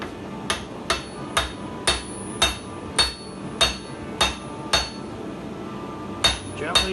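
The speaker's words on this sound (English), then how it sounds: "I'm gonna use your hammer, dude." A steel hammer rings on hot metal while tomahawks are forged at a blacksmithing class, about a dozen sharp, bright strikes in a steady rhythm, moderately loud with a faint background hum.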